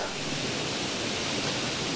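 A waterfall rushes with a steady, loud, broadband roar of falling water, unbroken and close, with no other sounds standing out.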